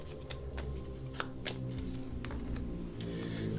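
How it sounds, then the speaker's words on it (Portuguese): Tarot cards are shuffled and drawn from a deck, a close, steady run of papery riffles and flicks with several sharper snaps, continuous throughout. "Vou tirar 3 cartas."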